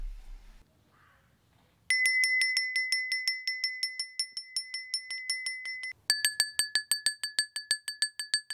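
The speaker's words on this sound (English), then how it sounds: "this is what the bells look like and sound like." Small handmade ceramic Christmas bells ring in steady, repeated bright strikes, clear and close, with a brief pause before a second bell with a higher, brighter tone continues ringing.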